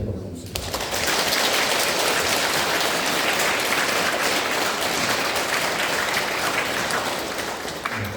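Congregation applauding inside a Catholic parish church during a Lent lecture, a dense, steady clapping wash that starts quickly and holds loud and even throughout, with possible faint voices underneath.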